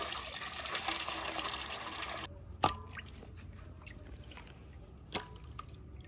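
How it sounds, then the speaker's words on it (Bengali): Water runs and drips during the final rinse of meat being washed for spicy khichuri, a steady trickle that stops abruptly, followed by two distinct drips alone and close. "এবার ফাইনাল ধোয়া চলছে"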